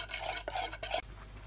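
PVA glue and food colouring being stirred into slime, a close, continuous squelching and scraping in short bursts with no voices.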